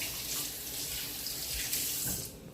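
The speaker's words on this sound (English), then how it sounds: "So now I'm gonna rinse it off." Tap water runs steadily from a kitchen faucet over a peeled yam, a close, continuous hiss and splash with slight shifts as the tuber is turned under the stream.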